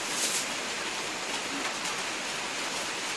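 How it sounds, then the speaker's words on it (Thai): Steady rain falls in a dense, even hiss with no break, loud and close, with no voices over it. "ฝนตกฝนตก"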